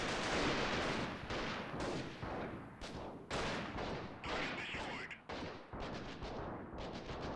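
Sniper gunfire in the video game Freeman: Guerrilla Warfare during the siege of Zinkov, a rapid run of loud sharp shots and echoing cracks with a few brief pauses, and some talk over the top.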